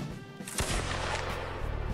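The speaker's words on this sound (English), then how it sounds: "Stop firing, stop firing." Musket volley fire in Mount & Blade Warband during a large Napoleonic-era Austerlitz battle, a dense crackle of distant shots running together into a continuous rumble.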